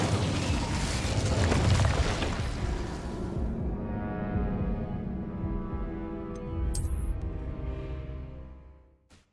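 A roaring fire spell in Hogwarts Legacy bursts loud and full, then trails off into a crackling, rumbling burn that fades away near the end, with a brief bright chime partway through.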